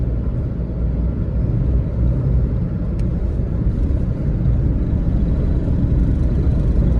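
A Tata Tiago car engine with a fault that keeps it from climbing past about 2000 rpm gives off a loud, steady low rumble that stays flat and never rises, with no voices.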